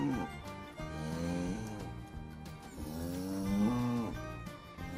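Cattle moo repeatedly, several long low bellows, fairly close, with other animals lowing in the background.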